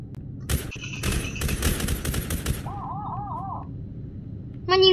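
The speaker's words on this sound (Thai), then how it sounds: "มันยิงองศาเข้าด้วยเหรอ" Rapid bursts of automatic gunfire in a Roblox shooting game, loud and close, followed by a warbling electronic game tone and a short beeping sound effect at the end.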